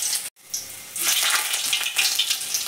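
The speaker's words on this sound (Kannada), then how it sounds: "ಪನ್ನೀರನ್ನು ನೆಟ್ಟು ಪಾರ್ದು ಫ್ರೈ ಮಲ್ಪುಗ" Paneer fries in hot ghee and coconut oil, giving a bright, steady sizzle after a brief pause, close and fairly loud throughout.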